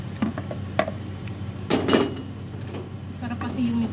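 Garlic, chili and ginger drop into a hot pan for chicken adobo, giving a steady low sizzle with scattered stirring scrapes and utensil clinks, while someone talks over the cooking.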